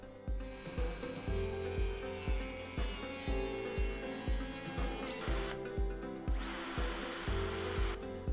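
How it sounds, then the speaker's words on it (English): A power drill whines loudly in a series of short bursts, with rhythmic knocking and grinding as it bores through fiberglass to make a mounting hole for an aircraft wing light. "drill out the center hole at the top to mount the wing light"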